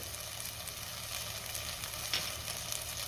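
Mutton masala spice paste fries in oil in a pan, a steady close sizzle and crackle running evenly throughout with a brief louder spit near the middle.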